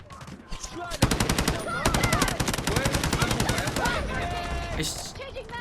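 CI-19 rifle gunfire in the mobile shooter game Delta Force Mobile comes as loud, rapid automatic bursts, one long sustained string followed by another, with a voice briefly heard at the start and end.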